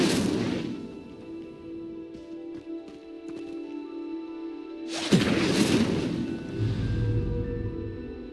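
Incendio fire spell cast in Hogwarts Legacy, a loud whooshing burst of flame with a rumbling tail that erupts partway through, over a steady game ambience.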